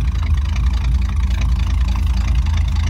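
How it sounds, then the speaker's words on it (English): A 1956 Ford Fairlane Crown Victoria coupe's engine idles steadily through its exhaust, a deep, loud rumble with a slightly uneven throb, close by and continuous. "Don't know what the exhaust will sound like on camera."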